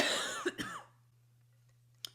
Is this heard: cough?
yes